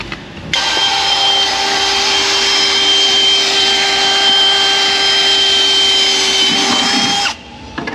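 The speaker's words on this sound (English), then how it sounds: "now that we're done drilling all the 4 holes" A power drill whirs loudly and steadily for about seven seconds, starting and stopping abruptly, with no talking.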